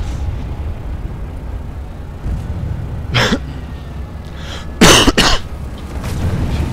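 A person coughs during a German online gaming session of Planetside 2: a single hacking cough, then a close, louder double cough a moment later, over a low steady background hum.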